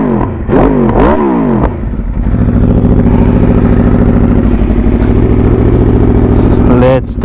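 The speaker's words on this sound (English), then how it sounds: "Just hear this brutal exhaust note." A 2022 Aprilia RSV4 1100 Factory sport motorcycle blips its throttle twice with sharp rising revs, then settles into a loud, throbbing, rapid-firing exhaust idle, close by.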